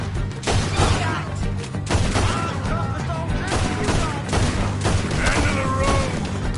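Dense gunfire while shooting O'Driscoll gang members in a video game, a continuous loud barrage of overlapping shots with yelling voices mixed in throughout.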